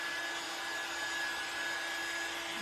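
A blower dries wet paint on a handmade craft card, making a steady, even whirring hiss with a faint tonal whine that runs unbroken at moderate volume.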